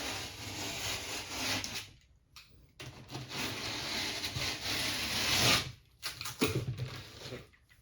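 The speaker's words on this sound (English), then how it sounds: "you just need to cut the thin paper face, follow your chalk line, and snap it off." A utility knife scores and cuts the thin paper face of drywall along a chalk line, close, scratchy rasping strokes broken by a couple of short pauses.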